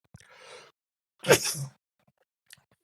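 A single close, sharp sneeze bursts out in a quiet room, preceded by a brief breathy intake and followed by near silence with a faint click.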